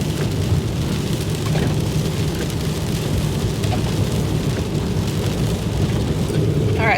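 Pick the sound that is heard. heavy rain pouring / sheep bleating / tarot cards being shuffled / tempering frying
heavy rain pouring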